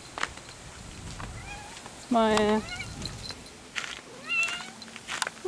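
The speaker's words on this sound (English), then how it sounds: "Oh, that's the cat." A cat meows twice, a loud drawn-out cry and a shorter one later, close by, with a person talking softly around it.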